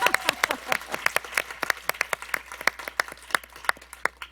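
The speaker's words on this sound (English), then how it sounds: "this entire room started clapping" A room full of audience members bursts into applause, a dense run of sharp claps sustained for several seconds at close range with no talking over it.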